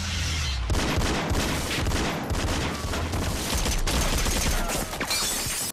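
Movie gunfire from a hotel-room action sequence in Barb Wire: a dense, continuous fusillade of rapid shots and impacts, loud and unbroken.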